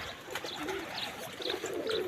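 Pigeons cooing in a fancier's loft, several soft repeated coos close by over a quiet background hiss, no talk.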